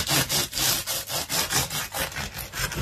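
Rhythmic back-and-forth rasping strokes, about ten in quick succession, a serrated knife sawing through a crusty multigrain loaf, close and fairly loud.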